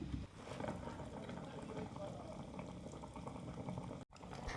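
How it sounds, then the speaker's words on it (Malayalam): Kerala-style fish curry in a pot bubbles steadily, a continuous soft simmering hiss and gurgle up close, briefly cut off near the end. "ഇപ്പോൾ ദാ നമ്മുടെ മീൻകറി നല്ലപോലെ തിളച്ച് ചാറൊക്കെ ചെറുതായിട്ടൊന്ന് വറ്റി തുടങ്ങിയിട്ടുണ്ട്"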